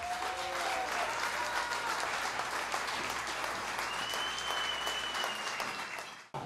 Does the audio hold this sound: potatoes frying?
no